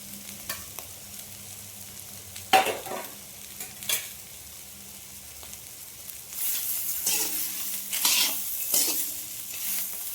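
Fried papad and peanuts are stirred in a pan, with sharp scraping strokes and crunchy rattling over a low sizzle that grows louder and busier toward the end, and no voices.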